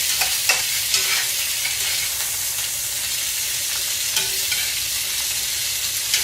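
Asparagus frying in melting butter in a pan, a loud, close and steady sizzle with scattered scraping clicks as the spears are turned and spread out, no voices.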